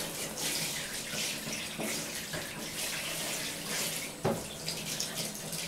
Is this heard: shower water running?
yes